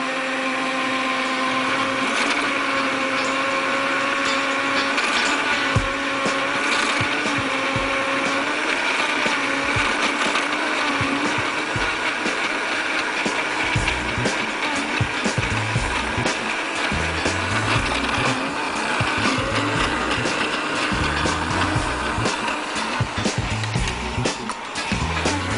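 A blender whirring continuously as it mixes cheese with grated cheddar, a loud close steady motor drone with faint rattling and knocking from inside the jar throughout.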